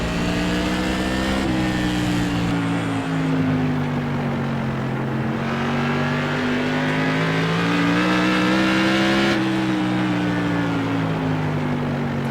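A Whelen Tour Modified race car in iRacing laps South Boston with a loud, continuous engine drone. Its pitch dips and climbs through the corners, with a few abrupt shifts in tone.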